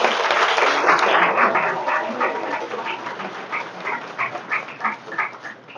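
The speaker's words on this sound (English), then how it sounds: "can I get a round of applause for the head table?" Luncheon crowd applauding the head table at a Law Day awards event, a broad wash of clapping that thins toward the end into scattered individual claps.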